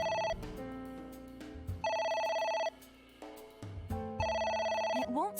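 Repeated electronic telephone ringing from AI: The Somnium Files, three bursts of bright chiming tones separated by short gaps, over a low steady game music bed.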